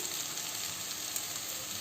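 Potatoes and onions fry in a pan over medium heat, giving a steady, close sizzling hiss that holds evenly throughout with no voices.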